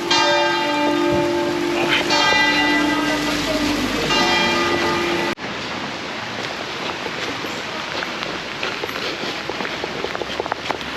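A church bell in the tall bell tower of the church of Saint Giorgio in Varenna on Lake Como rings loud and resonant, then cuts off abruptly, leaving rain and hurried footsteps outdoors.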